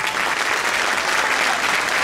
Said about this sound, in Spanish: Un forte aplauso para eles, por favor.